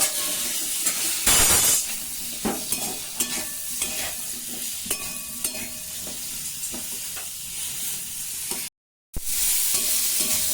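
Steady sizzle of potatoes frying in a pan fills the clip, with occasional scraping and stirring clinks and a brief gap near the end.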